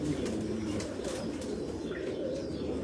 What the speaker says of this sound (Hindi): ये कबूतर भाई गोल्डन कबूतर है।